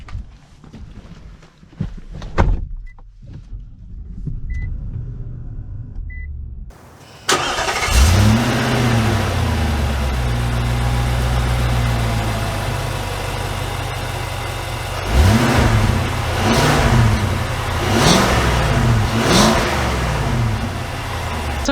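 A 2022 Infiniti QX80 Sensory SUV starting up, its engine turning over after a few quiet clicks, then settling into a steady drone and revving repeatedly as it pulls away, loud and close.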